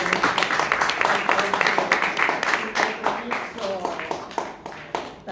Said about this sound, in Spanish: Vamos a despedir a Verónica con un aplauso